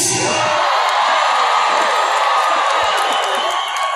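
A crowd at a freestyle music throwback jam cheers and whoops loudly and continuously, a dense wash of voices held at full volume with no pauses.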